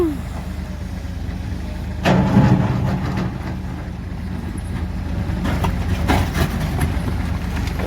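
A Komatsu PC200-8 excavator digs into hard rock, a loud, continuous engine rumble with heavier grinding surges and scraping bursts near the machine.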